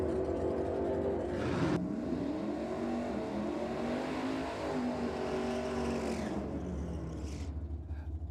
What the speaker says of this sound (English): I could hear a very well-cammed big block